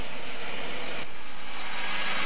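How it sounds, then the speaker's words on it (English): A steady broadband roar of an Army helicopter in flight over Morocco's front lines in Western Sahara, loud and close throughout, its tone shifting abruptly partway through, with no one speaking. "I was airlifted to Morocco's front lines by Army helicopter."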